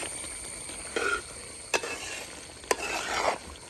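Chicken curry in a traditional uruli pot is stirred with a spoon, giving a few scraping knocks against the pot over a low background hiss.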